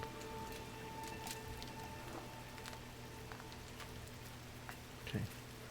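Soft, steady rain falls in the video game GRIS, a continuous hiss with scattered drip accents and a brief low tone near the end.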